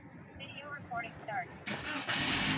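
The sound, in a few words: Toyota Vios engine starting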